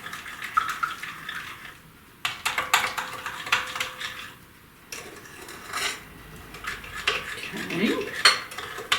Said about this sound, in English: So let me put some of this in, mix it around.